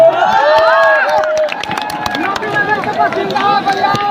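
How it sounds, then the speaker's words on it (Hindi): A large crowd at a political rally for Pawan Singh breaks into loud, sustained clapping, mixed with shouting and cheering voices close by for the whole stretch. "भाई के लिए जोरदार ताली हो जाए"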